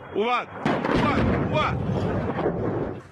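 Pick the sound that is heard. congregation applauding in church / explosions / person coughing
explosions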